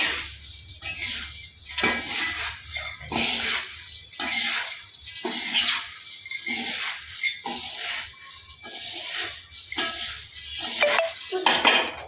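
Puffed rice being stirred in a little oil in a pan scrapes and rattles continuously and fairly loudly in repeated strokes, with no talking.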